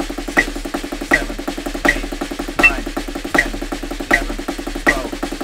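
Drumsticks play a steady stream of rapid 32nd notes, eight strokes per beat at 80 BPM, as a warm-up exercise, with regular accented hits roughly every three-quarters of a second over dense, even sticking, close and clear.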